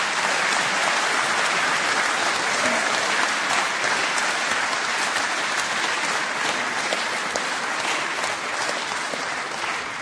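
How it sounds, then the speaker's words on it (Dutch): Sustained, dense audience applause fills the hall after a history lecture, a continuous loud clatter of many hands clapping that holds steady throughout before fading slightly at the end. "Maarten van Rossum, nog één keer een hartelijk applaus graag."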